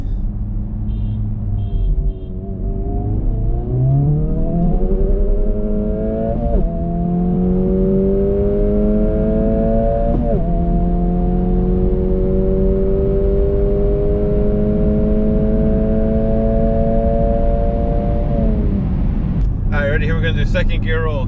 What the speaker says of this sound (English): We'll do a second gear roll, three beeps.